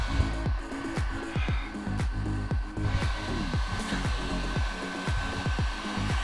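A heat gun blows a steady, loud roar while warming a PVC deck trim board outdoors on a hot day, with repeated short clicks or taps breaking through the airflow.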